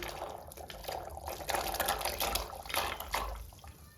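A pot of water comes to a rolling boil on the stove before pasta goes in, giving a steady, soft bubbling and gurgling close by, with no voices.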